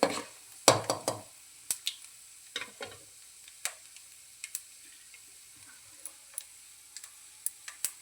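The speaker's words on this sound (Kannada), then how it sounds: "ಕಡಲೆ ಬೀಜ ಮತ್ತು ಕಡಲೆಬೇಳೆ, ಉದ್ದಿನಬೇಳೆ ಸ್ವಲ್ಪ ಬಣ್ಣ ಚೇಂಜ್ ಆಗೋವರೆಗೂ ಫ್ರೈ ಮಾಡ್ಕೊಳ್ಳೋಣ" Peanuts, chana dal and urad dal fry in a pan, heard as sparse light ticks and crackles with occasional louder stirring scrapes, close and quiet with no talk.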